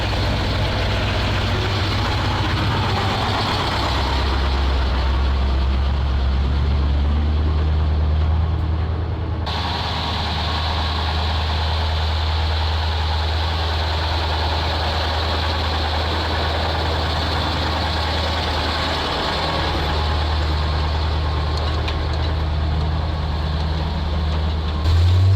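KrAZ-255 truck engine idling while warming up, a heavy continuous diesel rumble heard loud and close for a long stretch, its pitch shifting slightly partway through, with no voices.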